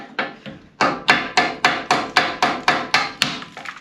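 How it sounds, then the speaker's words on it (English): A hammer taps a brake caliper pin through on a 1975-1991 Ford Econoline E150, about ten sharp metallic blows in a steady, even rhythm, loud and close with no talk. "I need to tap the upper one through."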